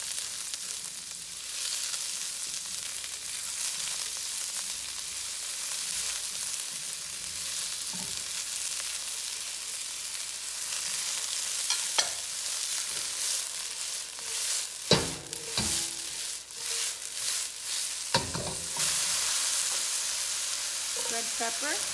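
Garlic, imitation crab and mushrooms stir-fried in a wok, giving a steady hiss of frying with occasional sharp spatula clanks and scrapes toward the end, close and continuous, with no talk.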